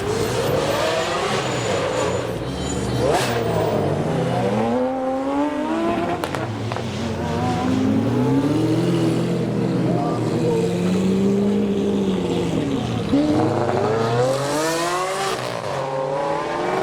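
A BMW M140i revs and accelerates while leaving a supercar show, its engine loudly rising and falling through several surging runs, with crowd noise and some speech in the background.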